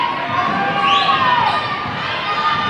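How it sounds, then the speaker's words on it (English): A home crowd at a high school girls' basketball game, Desert Edge against Agua Fria, keeps up a steady roar of shouting and cheering, with rising whistled and yelled tones, loud and dense throughout. "Desert Edge's home crowd is trying to get into the game"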